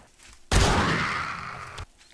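A single loud shotgun blast in the game 7 Days To Die, a sharp close report that rings out with a broad, noisy tail for over a second before cutting off.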